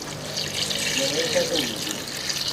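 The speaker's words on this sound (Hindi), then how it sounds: "अब पानी जो है हम इसमें पानी इतना ही डालना है कि गल जाए इसमें" Water runs from a tap into a cooking pot holding beef and onions for a restaurant-style namkeen gosht, a continuous close splashing hiss with a gentle gurgle that holds steady throughout.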